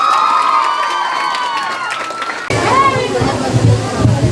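Applause and cheering from a Women's Day self-help savings group gathering in the village of Usarli Khurd, honouring Amit sir; loud crowd noise with music first, then clapping and shouts that swell after a sudden change.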